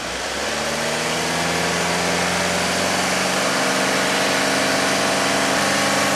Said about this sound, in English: Rev it up again, Gavin.